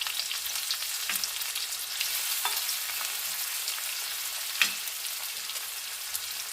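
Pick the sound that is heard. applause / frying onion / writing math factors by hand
frying onion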